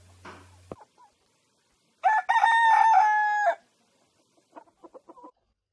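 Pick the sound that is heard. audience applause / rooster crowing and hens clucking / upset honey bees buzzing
rooster crowing and hens clucking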